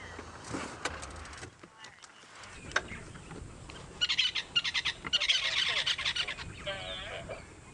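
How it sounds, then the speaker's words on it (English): A large bird calls from a tree during an early-morning safari drive, giving a run of loud, honking, goose-like cries over mixed background sound, with bursts of chirping in between. "There's a very large bird in that tree over there."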